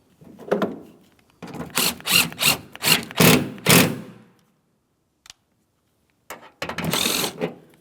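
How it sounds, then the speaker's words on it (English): The lower mounting bolt of a 2007-2014 GMC Sierra 2500 HD tailgate is tightened, producing close, rapid bursts of ratcheting clicks, then a pause and one more burst. "Let's go ahead and tighten that lower bolt."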